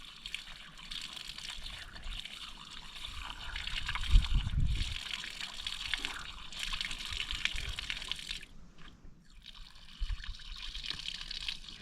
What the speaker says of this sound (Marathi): पाय बिय धुवून घे इथून स्वच्छ